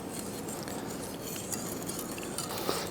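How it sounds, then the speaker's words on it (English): A spoon stirring stone-ground grits in a pot, with a steady scraping and soft bubbling texture and occasional light clinks against the pot, continuous and close. "I'm going to stir them fairly consistently until I get a chance, until they start to swell up"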